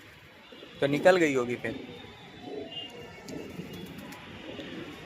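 A pigeon gives a short, throaty coo up close in the rain, followed by faint background noise and a brief quiet voice speaking.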